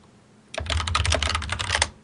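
Rapid keystrokes clatter on a computer keyboard, a close, busy burst of typing lasting about a second and a half with no talk over it.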